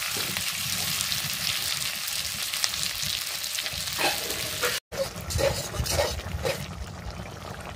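Food sizzles and fries steadily in a pan while curry with meat is cooked, giving a continuous crackling hiss with occasional stirring scrapes and a brief break partway through.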